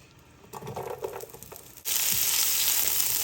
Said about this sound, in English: here I chopped the onion and I'm gonna put it over the oil